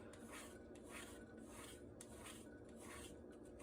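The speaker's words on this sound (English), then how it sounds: "we're going to take our potato peeler." A potato peeler scrapes shavings off a chocolate bar in quiet, steady rasping strokes, close up, with no talk.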